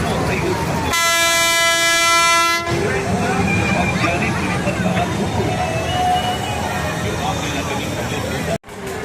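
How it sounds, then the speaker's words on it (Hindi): Fairground dragon train ride at a crowded mela in Khatima, Uttarakhand, giving a loud sustained horn toot near the start, then rumbling ride noise and crowd hubbub with voices throughout. "जो ड्रैगन ट्रेन थोड़ी देर पहले खाली नज़र आ रही थी, अब बच्चों से भर चुकी है"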